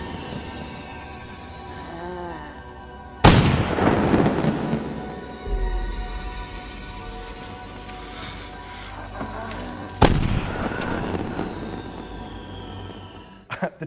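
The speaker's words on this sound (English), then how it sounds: "Fireworks, kid." Fireworks in a film scene go off as two sharp, booming bursts about seven seconds apart, each trailing into a crackling decay, with a faint voice heard before the first.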